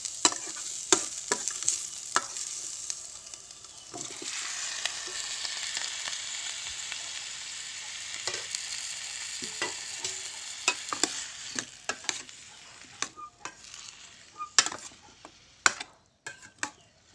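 Chopped onions fry in a pan for a matar paneer gravy, giving a steady close sizzle that swells midway, with repeated sharp clicks and scrapes as a utensil stirs them.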